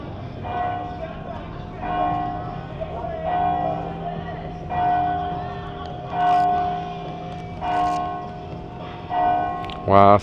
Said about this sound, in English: Still ringing the old church bell.